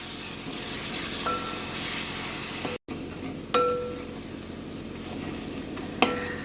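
Ginger garlic paste sautés in a pan with a steady sizzle, broken by a few sharp clinks of a spoon against the pan, for a North Indian egg biryani.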